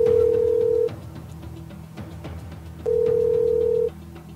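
A Korean telephone ringback tone sounds while a call goes unanswered: a steady tone lasting about a second, a pause of two seconds, then a second identical tone, clear and close over faint background noise.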